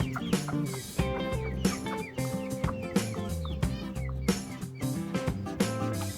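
A broody hen named Miracle makes a low, repeated clucking close by, in short irregular bursts over a busy background.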